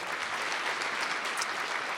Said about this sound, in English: Everybody clap it up for Miss Jessica.